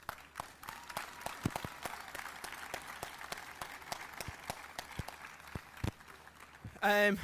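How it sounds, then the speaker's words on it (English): Outdoor crowd applauding supporters at a Galway GAA under-20 hurling final between Turloughmore and Clarinbridge, scattered sharp claps ringing out over several seconds, with a brief burst of speech at the end. "you deserve a massive round of applause as well"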